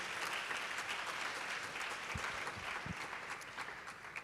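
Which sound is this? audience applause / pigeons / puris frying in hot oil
audience applause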